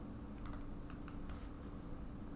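Scattered quick clicks while plotting points with the pen tool in Adobe Illustrator, a handful of light taps at irregular intervals over a steady low background hum; no one speaks.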